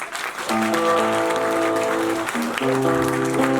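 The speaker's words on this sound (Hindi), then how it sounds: "एक बार हमारे हिंदुस्तान के लिए जोरदार तालियां" Steady crowd applause throughout at an academic awards ceremony, mixed with sustained musical tones and cheering, loud and continuous.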